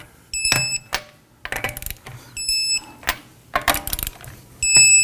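Lug nuts on a 2018-2024 Toyota Camry are torqued to 76 foot-pounds with a torque wrench in a star pattern, giving a repeating set of sharp metallic clicks, ratchet rasps and short high electronic beeps, close and clear.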